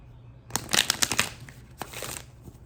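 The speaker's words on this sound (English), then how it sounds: "So let me shuffle these real quick." A Moonology oracle card deck is shuffled by hand, giving a close run of quick papery riffles and taps that bunch together in the first half and then thin out to a few softer flicks.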